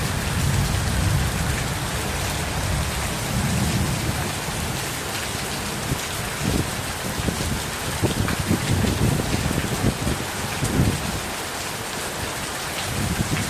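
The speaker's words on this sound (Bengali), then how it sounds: "বৃষ্টিতে ভালো লাগছে" Steady heavy rain falls on a green village yard where ducks and hens roam, a dense continuous hiss with spattering drops on surfaces and faint low rumbles underneath, no talking.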